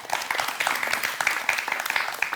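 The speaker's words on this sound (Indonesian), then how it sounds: "Wah, boleh berikan tepuk tangan." A studio audience at an Indonesian television talk show on Banjar tradition breaks into brisk, lively applause, close and continuous with sharp individual claps standing out.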